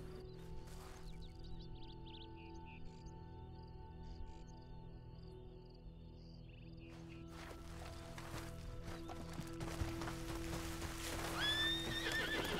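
A horse in a video game neighs and whinnies while its hooves clip-clop steadily, over an ambient background of crickets and other game sounds.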